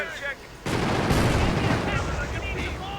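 Gunfire from infantry units in Company of Heroes (Blitzkrieg mod, Wehrmacht side) bursts in sharply after a brief pause, then rattles on as sustained overlapping shots and booms under a talking voice.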